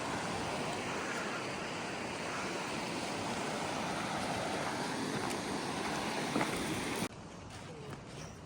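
Water rushes steadily along a mountain route on the Kailash parikrama, a loud continuous broadband wash with wind buffeting the microphone, dropping abruptly in level near the end.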